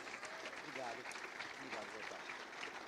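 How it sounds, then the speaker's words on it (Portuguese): Church congregation applauding during a youth service, a dense patter of clapping with voices speaking over it throughout. "Aplauda Jesus."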